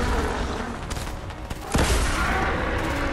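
Gunfire in a video game boss fight against the Storm King: a dense, continuous barrage of shots and blasts with a sharp loud burst partway through, heard close with no talk.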